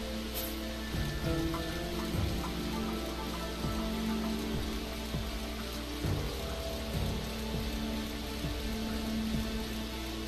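Steady rain pours in a Dirge of Cerberus: Final Fantasy VII game scene, a dense even hiss with scattered drop patter running the whole way, alongside a low background tone and occasional soft impacts.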